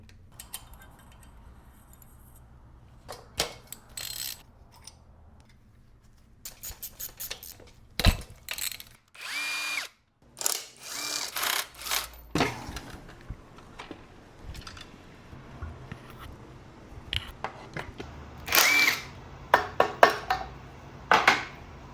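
Metal tools clink, tick and rattle sporadically while the cylinder head comes off a propane outboard engine, quiet at first, then clustered sharp taps and clatters up close against a low background hum, with no speech.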